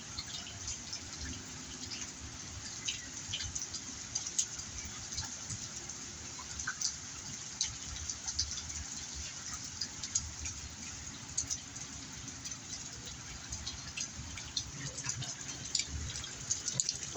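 Steady dripping and trickling water as heavy rain eases off, a dense patter of small drops with occasional louder splashes, continuous and fairly close, with no voices.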